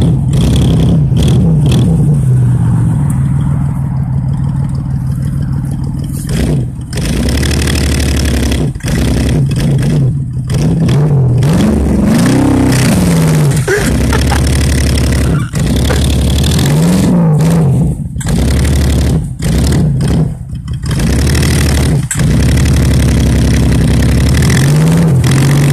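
A 1991 Buick engine revs hard and repeatedly while its wheels spin in mud on a trail, loud and close, with surging and dropping engine pitch and no speech.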